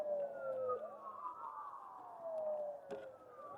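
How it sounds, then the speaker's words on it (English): Emergency vehicle sirens wail in distant, overlapping sweeping tones that rise and fall continuously, heard outdoors at moderate volume with no talking. "Those sirens didn't faze you any, did they?"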